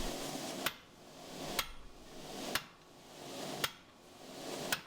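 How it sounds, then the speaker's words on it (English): A large hammer strikes a drift into the eye of a forged Francisca battle axe, four sharp metallic blows evenly spaced about a second apart, each ringing briefly over a quiet workshop background. "So I've got my large hammer drift."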